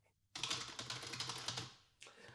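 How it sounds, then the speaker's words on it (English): Rapid clattering keystrokes on a computer keyboard, close and fairly loud, running in a dense burst for well over a second, breaking off briefly, then resuming. "I'm going to need to be tapping on this keyboard again"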